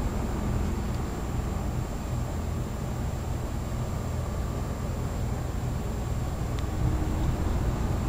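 A 2003 Lennox Signature Collection 15 SEER 2.5-ton air conditioner with a Copeland scroll compressor runs outdoors as a steady, even broadband whoosh and faint hum, unchanging throughout with no voices.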